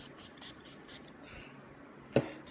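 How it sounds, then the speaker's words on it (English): Short, quiet hissing spritzes of BYS Prep Makeup Skin primer are misted onto a face, several quick pumps in a row followed by a faint tap near the end. "spray a little bit on my face"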